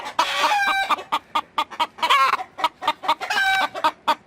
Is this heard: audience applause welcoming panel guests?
no